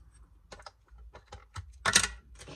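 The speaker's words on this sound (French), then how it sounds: "Et je vais tamponner." A Moment-brand rubber stamp pressed down onto a handmade card with a sheet of paper underneath, giving a few short taps and thuds, then one louder firm press, close and alone.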